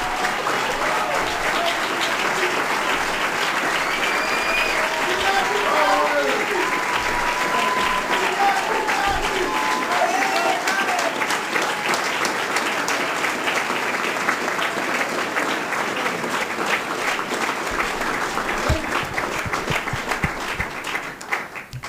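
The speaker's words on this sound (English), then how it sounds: "Give Bobby Seale a round of applause." A crowd at an event marking the Black Panther Party's 50th year gives Bobby Seale a long, loud, dense round of applause that never lets up, with a voice briefly heard over it early on.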